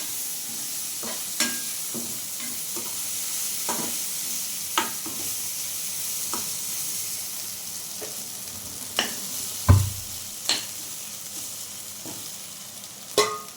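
Suvarotti, goat spleen, frying in a village kitchen pan under a steady sizzle, with a spoon stirring in scattered scrapes and clinks and one heavier knock near the end; no voices.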